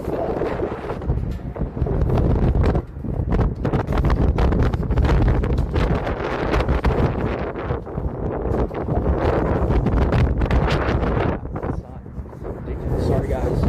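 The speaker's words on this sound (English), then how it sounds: "Holy shit, this wind." Strong wind buffets the microphone outdoors in a loud, continuous roar with gusty surges, while a person talks over it.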